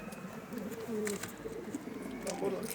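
A flock of rooftop racing pigeons, including a fork-tailed bird with a leg ring, coo in soft repeated murmurs while someone talks over them at close range.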